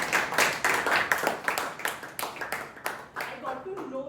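Participants in an online Toastmasters club meeting give a round of applause, with distinct rhythmic claps in a quick, steady pulse that soften toward the end as a voice begins speaking underneath.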